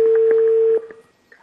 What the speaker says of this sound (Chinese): 主持人张婷决定连线周先生的母亲，也听一听他对小两口的看法。